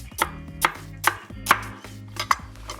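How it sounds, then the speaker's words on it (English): Knife roughly chopping celery on a cutting board, six sharp close thuds in an uneven, unhurried rhythm. "just roughly chop it along with the celery"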